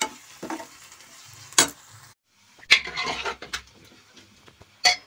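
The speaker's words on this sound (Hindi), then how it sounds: "इधर हमारा मसाला धीरे धीरे भुनने लगा है" Masala roasting in a pan for Punjabi sarson ka saag, intermittent stirring scrapes and clatters over a quiet sizzle, with a short silent gap midway.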